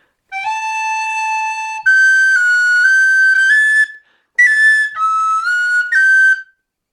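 An Irish tin whistle plays a phrase of Paddy Taylor's Jig, clear and close, in three bright melodic runs separated by a short pause for breath.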